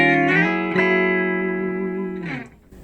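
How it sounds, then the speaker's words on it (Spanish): Stratocaster electric guitar with its humbucker split to single coil holds one sustained, slightly distorted chord, loud and close, re-picked once early on, then slides and fades out near the end. "sonido single"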